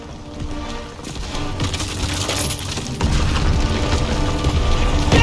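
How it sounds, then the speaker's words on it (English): Artillery barrage explosions in the World War II shooter Call of Duty WWII, a continuous roar of heavy booms and debris growing louder after a few seconds, dense and close with no clear gaps between blasts. "Artillery barrage!"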